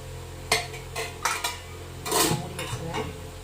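Metal lid set onto an idli steamer pot, a few sharp clanks and scrapes of metal on metal with short gaps between them, close and fairly loud, no voices.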